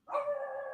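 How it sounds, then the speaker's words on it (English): Hound dogs howl and bark together in a sustained, loud chorus of drawn-out tonal wails that continue steadily without pause. "so I apologize for the hound dogs going off"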